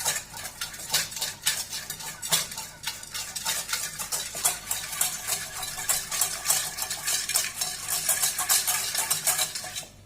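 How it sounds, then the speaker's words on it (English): A spoon stirs coffee powder into liquid in a bowl for eggless cake batter, scraping and clinking against the sides in a steady, busy rhythm, close and moderately loud, with no talking. "So just mix this well till the coffee dissolves."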